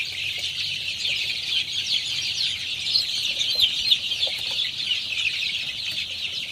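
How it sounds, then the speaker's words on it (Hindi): Desi chicks on a farm chirping continuously in a dense, high-pitched chorus, with a few louder peeps standing out against a steady background. "ये सब देसी छुआ"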